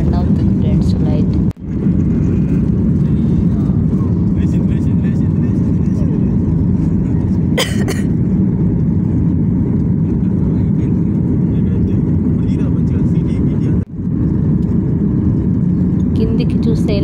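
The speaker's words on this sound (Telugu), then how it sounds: "కొంచెం ఫాస్ట్గా పైకి రన్ అవుతుంది ఫ్రెండ్స్ ఫ్లైట్" Airplane engines during the takeoff climb heard from inside the cabin, a loud, steady, broadband roar that continues unbroken, with a couple of brief clicks and knocks.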